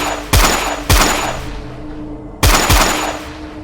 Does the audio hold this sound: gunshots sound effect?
yes